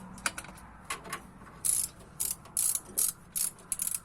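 Hand ratchet tightening a fitting on a Zephyr with a four-blade fan, giving close, quiet bursts of rapid clicking in short irregular strokes with pauses between them.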